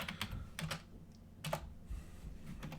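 Keys clacking on a computer keyboard in quick irregular bursts of a few strokes each, close and fairly soft with short pauses between.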